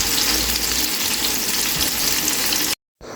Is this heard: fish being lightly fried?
yes